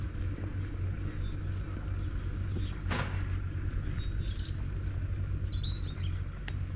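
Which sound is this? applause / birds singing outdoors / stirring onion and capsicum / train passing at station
birds singing outdoors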